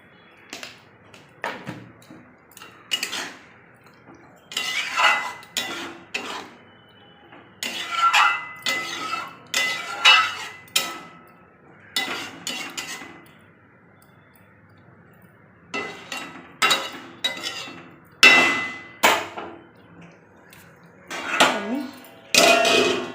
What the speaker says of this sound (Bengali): থালা ঢাকা দিয়ে দিয়েছি 10 মিনিটের মতো।